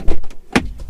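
A BMW M5 Competition's car door opens with a single short, close latch click and thunk, with faint mechanical noise before and after it.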